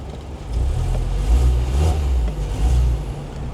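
A petrol 2-litre four-cylinder rental car engine revs steadily up close, a low rumbling drone that swells and eases across several seconds with no talking.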